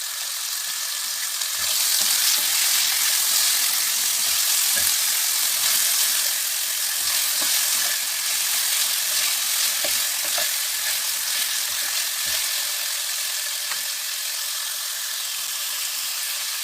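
Chicken pizza topping browning in olive oil in a pan, giving a loud, continuous hiss of frying with light stirring scrapes scattered throughout and no talk.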